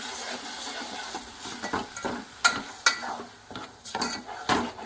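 Tomatoes are stirred in a metal pan with a spoon, giving a series of sharp scraping clinks and clatters at an uneven rhythm. A light sizzle runs underneath.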